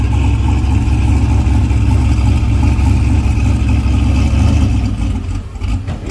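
A turbocharged drag race car engine idles loud and close at a street drag strip, a steady heavy rumble that holds throughout and dips slightly near the end.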